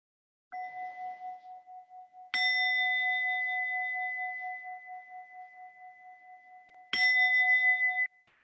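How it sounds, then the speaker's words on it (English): A meditation bell is struck three times, each clear ring sustaining and slowly pulsing as it fades, close and alone in a quiet room. "ring the bell"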